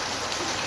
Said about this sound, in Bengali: এত জোরে জোরে বৃষ্টি পড়ছে